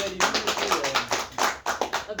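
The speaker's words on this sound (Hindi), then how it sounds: "एक बार जोरदार ताली बजाइए।" A village audience claps together at a gathering, a quick run of close, uneven hand claps that rise and fall under a speaker's voice.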